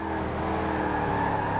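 The Apollo Intensa Emozione supercar engine in Forza Horizon 4 holds a steady, loud, tonal note, sustained and even with no speech.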